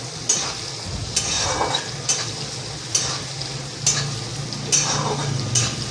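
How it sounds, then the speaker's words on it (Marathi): Peas and potato pieces fry in oil in a pan while being stirred, a steady close sizzle broken by regular scraping strokes about once a second, with no talking. "एकसारखं असं भाजी हलवायची. वाटाणे तेलामध्ये छान तळून निघतात."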